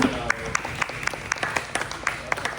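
Short burst of audience applause at an investor meetup on ADUs for the two presenters, with steady overlapping clapping from a modest room and voices murmuring beneath it.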